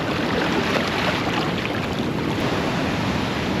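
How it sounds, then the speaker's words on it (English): Heavy ocean swell and surf break on the shore of a remote uninhabited island, a loud continuous wash of waves mixed with wind buffeting the microphone. "Oh, that swell has picked up heaps."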